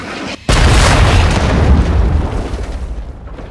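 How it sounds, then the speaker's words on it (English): A cruise missile detonation in Call of Duty Modern Warfare 2: one loud, close explosion that hits with a sudden deep boom, then rumbles and slowly fades over a few seconds. "Hostile cruise missile launched."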